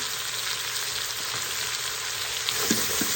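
Chopped jalapeño sautéing in an Instant Pot, a steady close sizzle with faint scraping and stirring taps near the end.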